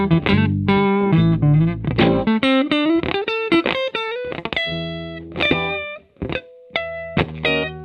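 Electric guitar lick following the chord tones, with distorted, effects-laden tone: a run of quick picked notes climbing in pitch, then sustained held notes and a few short stabs, loud and alone.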